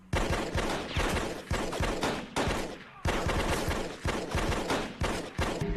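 Rapid bursts of automatic gunfire in a Breaking Bad cartel shootout, loud and close, repeating in dense volleys separated by brief gaps.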